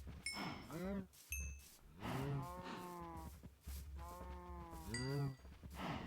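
Sheep bleat in a Minecraft game, several loud, drawn-out wavering calls overlapping one another, with low steady game background beneath.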